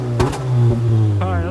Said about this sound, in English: He's gonna rev it up, guys.